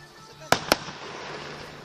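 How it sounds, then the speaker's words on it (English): Two sharp firework bangs burst close together during a fireworks finale in Olean, followed by a soft crackling wash as people talk quietly nearby. "Be a lot more fireworks in this finale."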